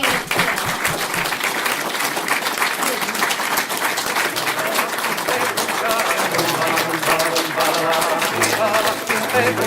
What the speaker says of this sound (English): I think it deserves a round of applause